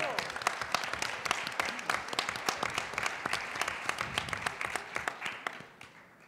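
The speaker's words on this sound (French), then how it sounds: "On l'applaudit." An audience at a PechaKucha summit applauds a returning guest, a dense run of clapping with sharp individual claps standing out, steady for several seconds before thinning toward the end.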